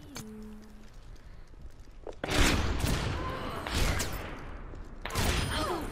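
Sharp, loud rifle shots from Widowmaker in Overwatch, about three cracks spaced a second or two apart, each with a ringing tail over steady game noise.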